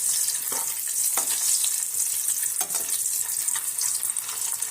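Frying in oil for egg biryani, a continuous close sizzle with a few louder scraping stirs, no voices.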